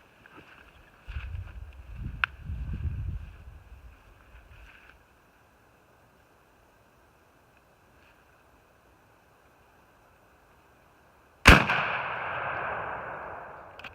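A shotgun fitted with a Kicks High Flyer modified choke fires once at a 40-yard target, a sharp, loud blast near the end that rings out after a quiet stretch, preceded by faint low rumbling outdoors.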